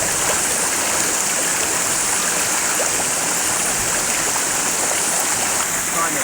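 A river in the New Zealand wilderness near Mt Kapakapanui rushes steadily and loudly nearby, a constant broadband wash of flowing water with no voices.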